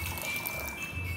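Water poured over sprouts in a kitchen, a soft, brief trickling splash close by with faint tinkling, quiet and continuous for about a second.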